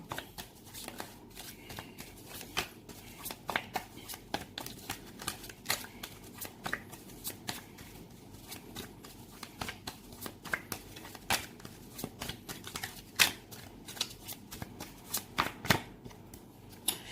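Tarot cards are shuffled by hand in a long, steady run of rapid riffling snaps and soft slides, close and fairly quiet, with no talking over it.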